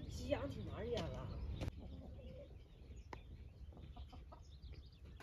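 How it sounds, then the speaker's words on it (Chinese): Backyard chickens kept for over three years cluck in short, scattered bursts after a person speaks at the start, the clucks fairly near but modest in level. "妈那鸡养挺长时间了。"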